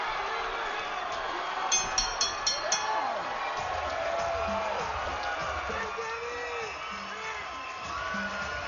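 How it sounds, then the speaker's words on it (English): Boxing crowd cheering in approval late in the ninth round of the Andrew Cancio vs Dardan Zenunaj fight, a broad arena roar with whoops rising and falling beneath a commentator's running talk. "Crowd with the approval."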